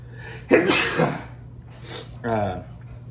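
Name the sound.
sneeze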